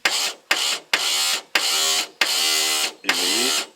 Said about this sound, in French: Et vous voyez, le démarreur tourne.